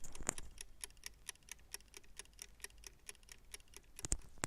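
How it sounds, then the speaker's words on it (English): A vegetable steamer's timer dial turning gives a quiet, steady run of fine ticks, close up and evenly spaced, with a couple of sharper clicks near the start and end. "So if I turn this dial at the bottom, it will make a ticking noise."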